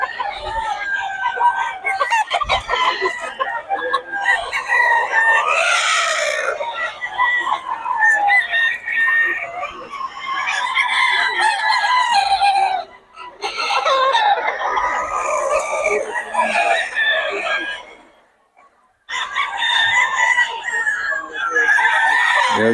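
Several banded WPC early bird gamefowl roosters crow repeatedly and loudly, long overlapping cock-a-doodle-doo calls with occasional clucks, with brief pauses between bursts.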